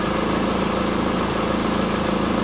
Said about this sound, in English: Let's run the engine first. Alright, okay, so engine on.